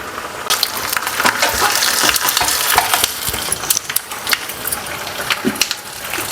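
Mustard seeds, urad dal, cumin and fenugreek crackle and sizzle in hot oil with dense popping and a stirring scrape throughout, close and steady.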